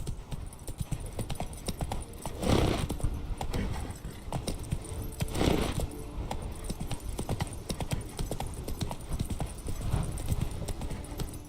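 In The Witcher 3: Wild Hunt, Geralt's horse Roach trots along with a brisk, continuous clip-clop of hooves, fairly quiet and even-paced, swelling in two brief louder bursts of movement.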